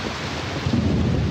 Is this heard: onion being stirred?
no